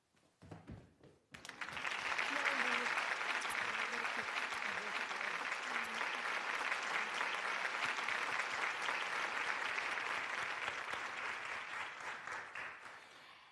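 Sustained, loud audience applause from a large crowd at a comedy-film prize contest, rising after a brief moment of noise and holding steady for about ten seconds before tapering off slightly.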